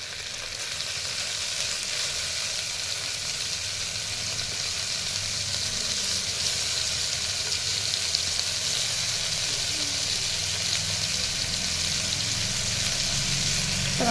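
Tomato pieces fry for khichdi in a hot pan, a steady loud sizzle with hissing that holds throughout, close and uninterrupted.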